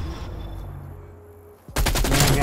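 Video game gunfire erupts as loud, dense bursts of rapid shots after a quieter stretch of ambient game noise, close and continuous for the final second.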